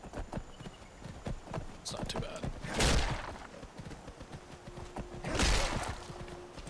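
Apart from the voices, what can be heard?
horse hooves in video game Skyrim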